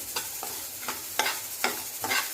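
Ground masala spices with roasted cumin powder stirred and roasted in a pan for misal, a spoon scraping in several separate strokes over a faint low sizzle, close and fairly quiet with no voices.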